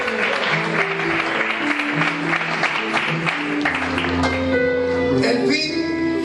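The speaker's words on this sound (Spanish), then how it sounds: "le pueden dar un fuerte aplauso para el Señor." A church congregation applauds loudly after a sermon on salvation, dense clapping from many people over sustained organ or keyboard chords, with some voices in the mix.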